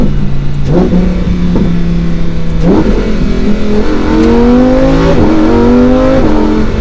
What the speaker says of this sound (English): Just getting on it a little bit more in the higher RPMs.